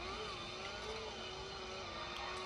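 A steady engine drone of the Scorpion car in the Roblox game Jailbreak, with a humming, slightly wavering pitch, runs continuously, fairly loud, with no voices over it.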